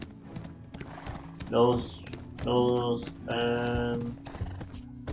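Horse hooves clip-clop at a steady pace in Black Desert Online, with loud, drawn-out whinnies rising over them while a voice speaks briefly.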